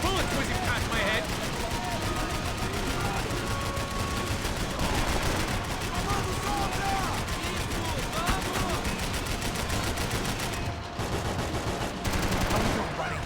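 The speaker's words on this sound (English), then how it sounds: "I can't concentrate with bullets whizzing past my head" Max Payne 3 gunfight with continuous automatic gunfire and bullets whizzing past, a dense, loud barrage of shots throughout, with voices shouting over the firing.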